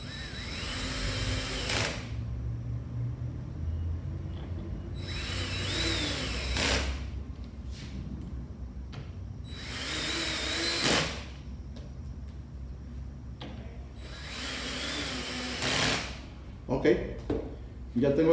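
A power drill drives screws into Blum cabinet hinges in four separate bursts of whirring, each a couple of seconds long, with quieter workshop handling noises in between.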